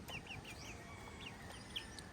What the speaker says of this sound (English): I can tell that he's a silky chicken because of his feet.